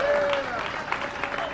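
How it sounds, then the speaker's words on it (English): A crowd at a Cincinnati mayoral election-night victory speech claps for Vice Mayor Roxanne Qualls, a brief burst of applause with a voice ringing over its start. "let's applaud again her service to this community"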